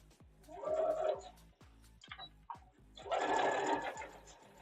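A sewing machine stitches down flange binding on a Starfire quilt in two short bursts of rapid mechanical whirring, separated by quieter knocks and faint rhythmic clicks from the machine.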